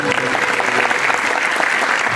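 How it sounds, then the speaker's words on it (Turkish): A hall audience at a university academic gown ceremony bursts into loud, sustained applause, a dense even roar of clapping throughout. "Alkışlarımız değerli hocalarımız için gelsin."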